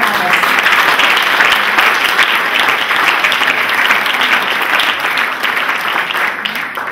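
An audience at a junior speaking contest finals gives loud, sustained applause for the farmer speakers, dense clapping that holds steady for several seconds before easing slightly at the end.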